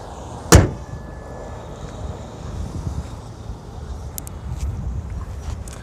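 One sharp thud as a part of a second-hand Alto K10 car is shut, followed by a quiet outdoor background with faint wind.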